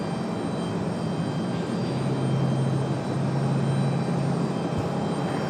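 JetBlue airliner jet engines at Raleigh Durham airport, a steady loud roar with a sustained low drone, heard alone without talk.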